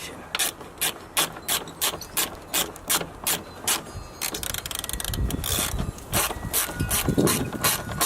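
A hand ratchet clicks in quick rhythmic bursts, then in a faster continuous run, as it tightens a bottom bolt on a new part for a Ford Super Duty truck, close and clear.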